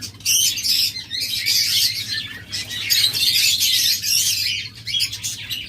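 A pair of white ringneck parakeets kept among caged birds calls with rapid, loud, overlapping chirps and squawks nearby, over a low steady background hum.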